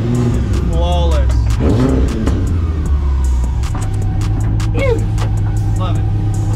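An old racecar engine fires up on a new battery and revs in several sharp bursts over a loud idle rumble, close to the microphone, with brief whistle-like rises and some talk.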